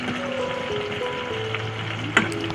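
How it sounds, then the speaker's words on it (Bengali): Round turmeric-and-salt potato slices fry in a pan with a soft, steady sizzle and a brief clink of a utensil near the end. "1 মিনিট ভালো করে ভেজে নিয়েছি।"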